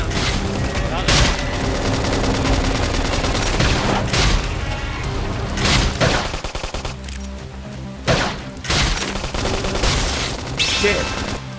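Loud, sustained gunfire from a Xenoblade Chronicles X battle, with dense volleys and heavy booming hits recurring throughout, mixed with combat effects and game voices.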